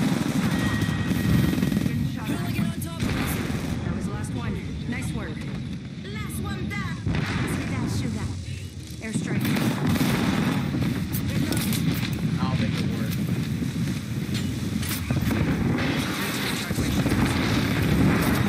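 Gunfire in an online shooter game, dense and continuous with heavy blasts and rattling bursts throughout, while a player talks over the battle.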